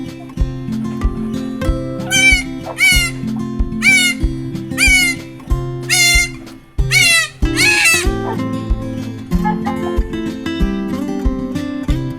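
A goat that has just given birth to three kids bleats loudly and repeatedly in wavering, quavering calls, with other steady tones running underneath throughout.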